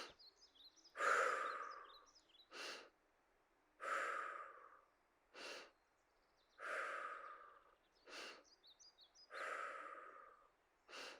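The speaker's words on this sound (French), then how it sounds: "Inspirez, expirez." Steady, rhythmic breathing during cardio squats and lunges: alternating long exhales and short inhales, close and clear, about eight breaths in eleven seconds, with faint bird chirps behind.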